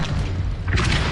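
An Incendio fire spell cast in Hogwarts Legacy, a loud low whooshing burst with a thudding boom, followed by a brighter crackling flare near the end.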